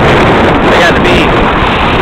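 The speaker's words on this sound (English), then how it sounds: "You can hear it. It's probably windy." Strong wind at a beach buffets the microphone in a constant loud roar, steady for the whole stretch with no clear breaks.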